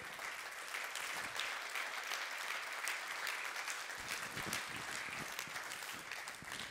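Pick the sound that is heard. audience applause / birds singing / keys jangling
audience applause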